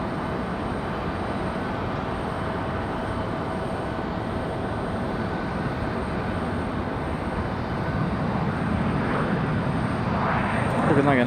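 PSA Airlines regional jet touching down on a runway at Raleigh-Durham International, a sustained jet roar that swells louder near the end, with radio chatter faintly underneath.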